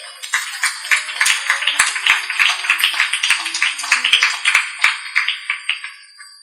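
A church congregation claps hands together in a brisk, steady rhythm, sharp close claps repeating evenly before fading out at the end.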